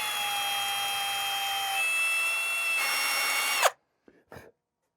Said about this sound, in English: Then all I need to do is chuck this thing in a drill and we can drill away.